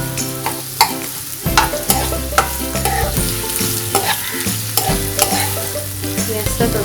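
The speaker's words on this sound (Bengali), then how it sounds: "পেঁয়াজটা ততক্ষণ ভাজা হোক" Onions frying in ghee for chicken kabab, with steady loud sizzling and repeated stirring scrapes and clinks in an irregular rhythm, close up and alone with no talk.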